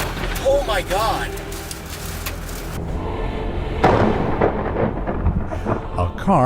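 Thunder from a lightning strike booms as a deep, rumbling crack partway through, set against a busy storm scene with a voice speaking over it.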